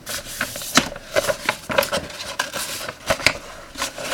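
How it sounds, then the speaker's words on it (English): Cheap photocopy paper torn in short bursts, a series of close, crisp rips and rustles repeating irregularly about once or twice a second. "Sorry about the tearing noise."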